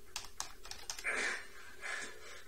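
Quick clatter of keystrokes on a computer keyboard as a cheat code is typed into Doom running on Linux, a short burst of close, crisp taps.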